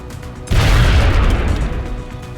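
A frag grenade goes off in the game XCOM, a sudden loud, close blast after half a second of quiet, followed by a rumbling decay lasting about two seconds.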